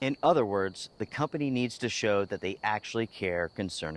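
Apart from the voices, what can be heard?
No everyday noise stands out behind the speech.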